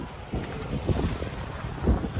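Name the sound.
wind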